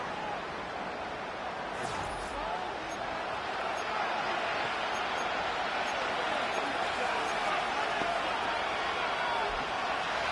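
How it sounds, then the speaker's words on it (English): Stadium crowd at an American football game, late in the fourth quarter before a third-and-long play, roaring in a dense, sustained wall of cheering and noise that fills the whole stretch. "The crowd cranking it up another notch before 3rd and long."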